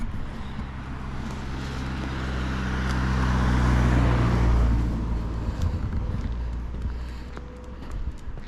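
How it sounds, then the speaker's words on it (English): Car driving past on a narrow woodland road with a bend, rising as it approaches, loudest around the middle, then fading away; a steady low rumble dominates. "car coming"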